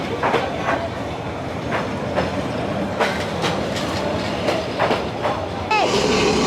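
A long passenger train of about eleven carriages rolls close past along Hanoi's narrow Train Street, wheels clicking steadily over rail joints, ending in a brief screech of squealing wheels.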